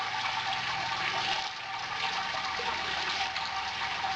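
Hot water at about 88 degrees poured onto the grain bed for sparging during a Brewzilla beer brew day, a steady close rushing splash that holds throughout with no talk.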